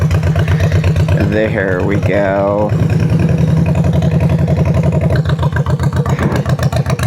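A Honda Shadow 1100 bobber motorcycle with straight drag pipes starts on choke and settles into a loud, steady, pulsing idle close by, with a brief revving rise early on and a short spoken remark over it.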